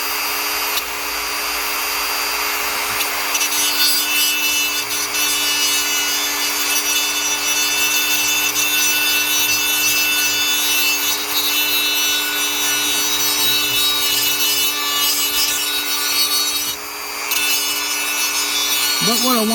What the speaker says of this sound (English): let's turn the old Dremel on and get going